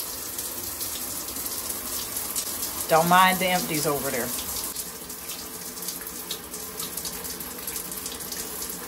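Water runs steadily from a tap into a sink, a constant gushing stream; a person speaks briefly partway through.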